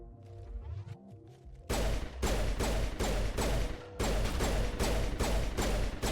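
Pistol fire in the Mass Effect video game, a quiet opening followed by a loud series of sharp repeated shots in a fairly even rhythm.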